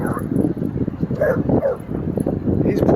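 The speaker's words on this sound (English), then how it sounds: "He's playing with a mini pin." A miniature pinscher and a mountain cur play together, giving out yips, whimpers and short barks close by, mixed with a person's voice calling out.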